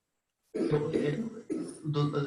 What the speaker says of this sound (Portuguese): Eu não paro de tossir.